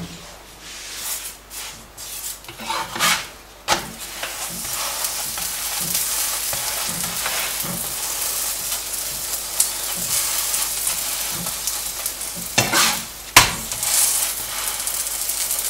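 An aloo paratha fries in oil or ghee on a hot pan, sizzling loudly and continuously with crackling spatter, occasional sharp bursts and brief scraping of the flatbread being moved.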